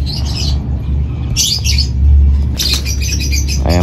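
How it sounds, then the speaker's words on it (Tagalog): Racing pigeons passing overhead during a training release in Rosales, Pangasinan, heard as bursts of chirps and squawks over a steady low outdoor rumble, with no talking. "Sunod-sunod yung mga dumadaan na kalapate."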